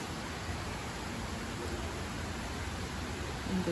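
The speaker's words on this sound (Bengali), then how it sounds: "অনেক সুন্দর বৃষ্টি দেখা যাচ্ছে।" Monsoon rain falls steadily over a tin-shed roof and coconut and mango trees beside a six-storey building, heard from a window as an even, moderately quiet hiss that holds throughout without pauses.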